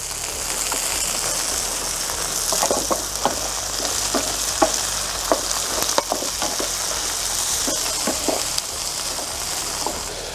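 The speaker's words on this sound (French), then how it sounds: "Donc là j'y mets mes asperges. Asperges vertes." Green asparagus sizzles and fries in a hot pan on a wood-fired rocket stove, a loud continuous crackling hiss with scattered pops and occasional stirring scrapes, close by and with no talk.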